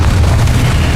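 A Confringo blasting spell explodes in the Hogwarts Legacy video game, a loud, dense boom filling the whole second without pause.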